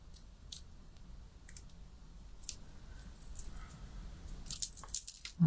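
Scissors snip through card stock while making a wildflower birthday card, a few faint, close, crisp cutting clicks scattered over quiet room noise, growing louder toward the end.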